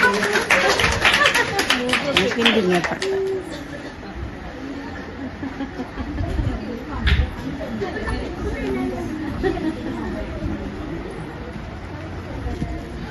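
An audience claps at a seventh anniversary event, a burst of applause early on that fades into crowd chatter and murmuring, with people talking over a busy room.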